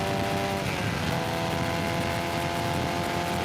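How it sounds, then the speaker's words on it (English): A race car accelerating down the back straight at Sebring during an HSR endurance event, its engine a loud, continuous, rising roar with strong tonal harmonics, heard close and alone. "We accelerate down the entire length of the back straight"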